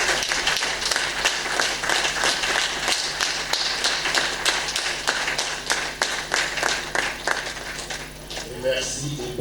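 An audience in a hall at an art event in Cotonou applauds with dense, sustained clapping that runs steadily for several seconds and tapers slightly at the end.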